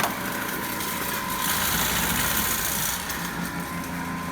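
A DC motor spins at a steady 1720 rpm on a lab bench, giving a continuous, even whirring hum with a bright high whine that holds constant throughout, close and fairly loud with no talk.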